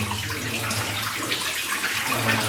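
Water gushing out of a partly dug-open old gold mine tunnel, a steady loud broadband rushing flow filling the whole moment, close by, with no talking.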